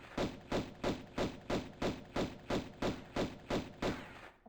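Gunfire at enemies in the original Tomb Raider, City of Khamoon level: about a dozen evenly spaced pistol shots in a steady rapid rhythm, each a punchy thud with a short tail, loud and close, stopping abruptly.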